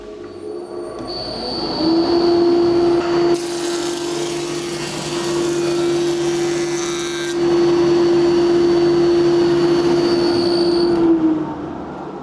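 A Bernardo FS 310 PS jointer-planer planes a wooden board, a loud steady whine with a sustained tonal hum from the cutter head that runs for several seconds as the wood passes, then spins down, with no talk.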